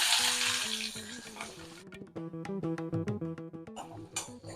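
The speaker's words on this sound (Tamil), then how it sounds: "வெங்காயம் ஒரு 2 நிமிஷம் வதங்கட்டும்." Onion sautéing in oil with mustard seeds and urad dal for lemon rice: a steady close sizzle and crackle runs throughout, with a stirring clatter and a tonal hum layered over it partway through.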